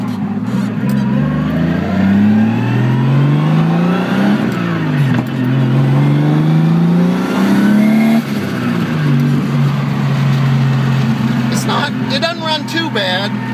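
Datsun Z fitted with an RB30 engine runs loudly and steadily at close range, its engine note rising and falling with revs, idling roughly with a few surging swells, while someone talks over it.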